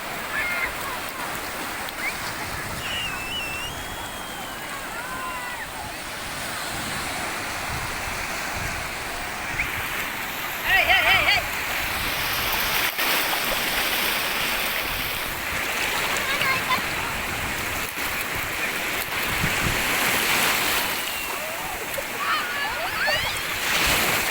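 Sea waves wash steadily along the coast at Krueng Mane in Aceh Utara, a loud, continuous surf roar that swells and eases, with occasional brief voices nearby.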